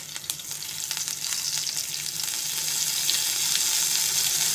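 Green chilies, curry leaves and ginger-garlic paste fry in hot oil, giving a loud, close, continuous sizzling hiss that grows slightly stronger over the few seconds.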